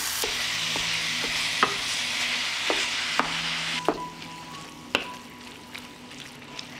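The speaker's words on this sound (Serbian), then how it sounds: "Mast se istopila i sada ću propržiti mleveno meso." Minced pork frying in melted lard in a pan gives a steady broad sizzle with scattered sharp clicks and scrapes as it is stirred, fairly close and alone with no voices.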